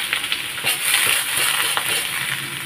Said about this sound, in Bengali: দিয়ে দিলাম আলু ভাজাগুলো।